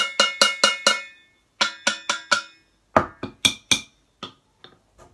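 Metal pots and pans struck in quick bursts of sharp, ringing clangs, four or five hits per group with short pauses between, loud and close in a kitchen cooking activity.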